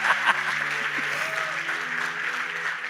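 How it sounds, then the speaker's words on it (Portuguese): A church congregation breaks into applause during a sermon, a steady wash of many hands clapping at moderate volume with faint voices and tones underneath. "Dá outra salva de palmas para Jesus aí"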